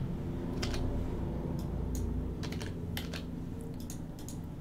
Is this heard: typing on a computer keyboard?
yes